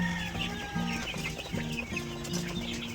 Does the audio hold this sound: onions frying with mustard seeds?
no